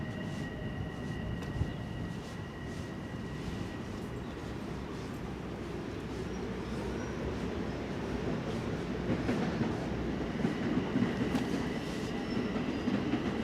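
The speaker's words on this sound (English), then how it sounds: "So there goes the train." A Long Island Rail Road train passes in Kew Gardens, Queens, a continuous loud low rumble with clattering wheels and a few squeal-like tones for over ten seconds, close to the listener, with no voices.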